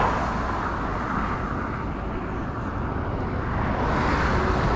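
Steady roadway noise from cars on a highway near Itu, São Paulo, a continuous broad wash of tire and engine sound from passing traffic, fairly loud and without distinct individual pass-bys.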